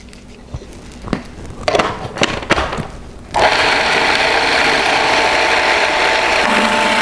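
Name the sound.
blender mixing pesto with cheese and oil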